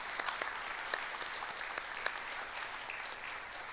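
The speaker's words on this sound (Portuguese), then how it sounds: "Mais uma salva de palmas para os dois" Applause from an audience at a public spiritist lecture, steady dense clapping with scattered sharper claps, moderately distant and continuous throughout.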